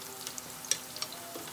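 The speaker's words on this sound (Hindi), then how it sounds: "अब इसमें मैं थोड़ा सा ये गार्लिक जो चॉप्ड गार्लिक है उनको दे देता हूँ, और इसको हार्डली आई विल इसको थोड़ा सा सॉटे कर दो" Chopped garlic sautéing in hot oil for pasta, a soft, quiet sizzle broken by small scattered pops and stirring clicks.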